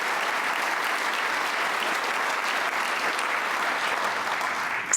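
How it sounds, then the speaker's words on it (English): Sustained audience applause fills a hall during a Hall of Fame induction ceremony, a dense, steady wash of clapping from many hands at even loudness throughout, with no one speaking over it. "Let's give them a round of applause."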